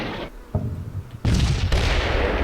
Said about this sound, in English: just keep that gunfire up